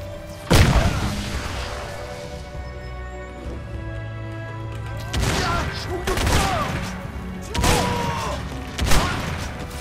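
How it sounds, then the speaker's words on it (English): Grenade explosions in the shooter game Crysis: several loud, sharp blasts spaced across the scene, one early and a cluster later, each with a rumbling tail over steady low background noise. "Use grenades to blast your way through."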